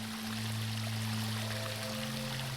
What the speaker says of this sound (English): That's an awfully loud water running sound.